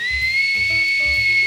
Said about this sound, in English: my Vivienne Westwood penis whistle